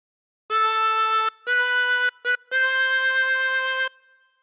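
A chromatic harmonica plays the slow, sustained melody of All Through the Night in four phrases, with a short gap and a quick brief note between them, clear and close.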